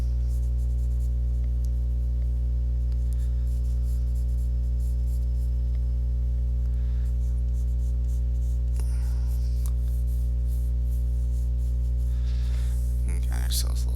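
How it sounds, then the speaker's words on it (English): Pencil sketching an eye for a creepy eye creature drawing: steady, soft scratching strokes continue throughout, faint against a constant low mains hum. "I'm gonna come in here and kind of sketch our eye"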